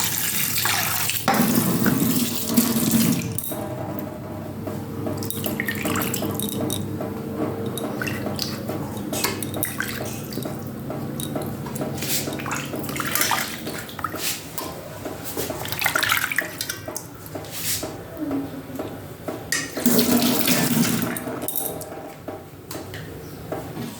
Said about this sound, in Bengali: তো প্রথমে এটাকে জল দিয়ে ভালো করে পরিষ্কার করে নিচ্ছি।